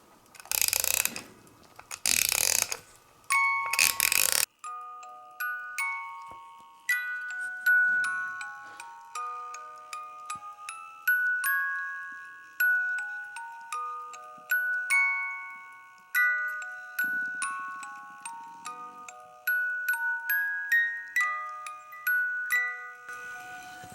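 A repaired, formerly overwound music box movement is tested: a burst of ratchety winding clicks comes first, then the comb plucks out a bright tinkling tune steadily, close and alone.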